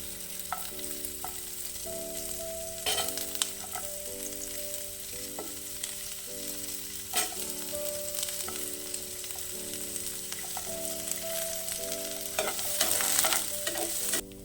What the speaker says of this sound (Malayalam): സവാള ഉള്ളിയെല്ലാം കളറെല്ലാം മാറി നമുക്ക് വേണ്ട അത്രയും വഴന്ന് കിട്ടിയിട്ടുണ്ട്